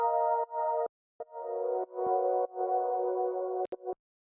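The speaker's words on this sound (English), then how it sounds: "And those pads are quite essential to the outro" Sustained synth pad chords in the outro of an electronic remix, drawn from the original samples, play in choppy gated blocks with abrupt cuts and short silent gaps, fairly quiet and with no voices.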